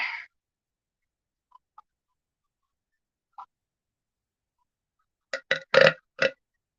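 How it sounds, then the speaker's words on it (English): A man's burp after a big meal: a short throaty belch at the start, then a quiet gap with faint clicks and a cluster of rough gulping bursts near the end. "Don't fucking tap my belly like that because I burped."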